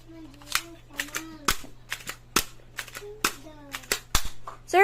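A Glock 43 pellet gun with a metal slide fires about a dozen sharp, snappy cracks at irregular intervals, close and fairly loud, with people talking in between.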